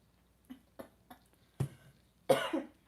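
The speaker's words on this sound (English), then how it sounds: "She's had such a cough." A woman with a cold coughs several times, small dry coughs and throat clearing at first, then a louder, harsher double cough at the end, close by in a quiet room.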